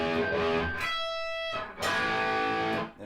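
Distorted electric guitar plays a short rock riff with a sustained unison bend on the second string, ringing loud and close, one held bent note between bursts of chords, with no talking.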